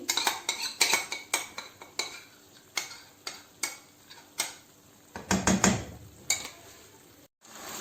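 A spoon clatters and scrapes against a metal pot while chicken handi ingredients, including cream, dried fenugreek and green chillies, are mixed; repeated sharp knocks in an uneven rhythm, close and fairly quiet, with no talking.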